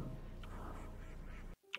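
Duck quacking in the horror video game Anatidaephobia: a short quack sounds over a dense, noisy game background, then the noise cuts out and one more brief call comes through in near silence.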